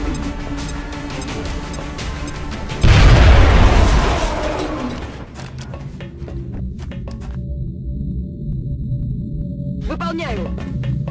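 A grenade explosion in the video game XCOM: Enemy Within sounds as a loud, sudden boom with a rumbling tail of a second or two, set among game music and effects.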